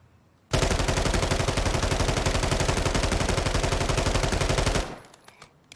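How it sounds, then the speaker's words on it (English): Sustained full-auto burst from an FSS Hurricane fired from the hip in Modern Warfare 3, a rapid, even stream of loud shots running about four seconds before stopping abruptly and leaving a brief tail. "I'm just going to hold the trigger down all 50 rounds"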